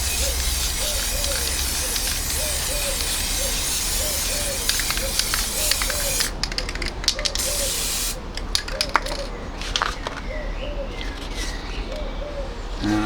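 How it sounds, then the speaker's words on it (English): An aerosol spray can hisses outdoors as card pieces for a model railway layout are coated, a long continuous spray with short breaks, while pigeons coo repeatedly in the background. "Now I've come outside to spray these."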